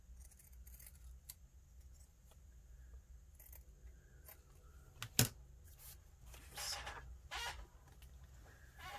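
Scissors snip through a paper band in a single sharp cut, with a few faint rustles of paper and junk mail handling before and after, in a quiet indoor room.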